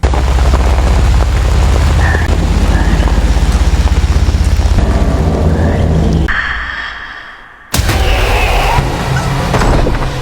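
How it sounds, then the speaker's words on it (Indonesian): Loud, dense rain roars steadily, briefly dropping away before returning in full force with a heavy downpour wash. "di tengah derasnya hujan"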